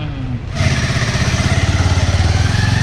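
A Pulsar 150 motorcycle engine runs during a test ride after repair at a roadside shop, a loud close throbbing beat that settles into a steady pulsing idle rhythm.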